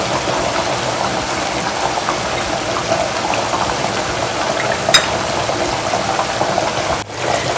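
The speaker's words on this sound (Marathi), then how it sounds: "त्याला उकळी आलेली, त्याच्यात मी कोथिंबीर टाकते." Black mutton curry bubbles at a steady boil in a pot on a gas stove, a continuous close simmering hiss and burble with no talk over it.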